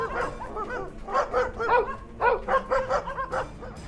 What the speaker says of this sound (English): The dogs catch wind of this backyard ghost parade. They go full-on freak-out mode, barking like there's no tomorrow.